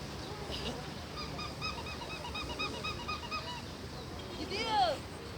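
Geese honk in a scattered series of calls over background noise at Mersin harbor, building to a louder cluster of honks near the end.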